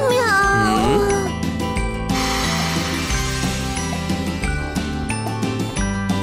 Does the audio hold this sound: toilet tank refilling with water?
no